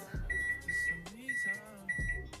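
Three short electronic beeps from an oven as a 25-minute timer is set, at a steady spacing, each a clear high tone with a thump of handling in between.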